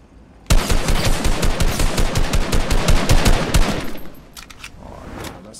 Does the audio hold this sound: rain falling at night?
no